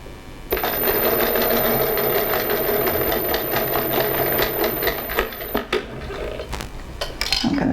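A sewing machine stitches the pleats of a fabric face mask in one steady, close whirring run of about five seconds, then stops, leaving a few light clicks and handling sounds.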